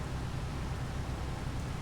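Steady, even hiss of rain, fairly faint and uniform throughout, with no voices.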